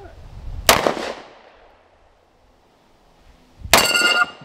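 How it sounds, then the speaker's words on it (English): Two sharp pistol shots from a Canik Mete at a steel Texas Star target on a range, loud and near, each with a bright metallic ring from the struck plates, separated by about three seconds of quiet. "Second time shooting the CANIK METE, but the first time shooting the Texas Star."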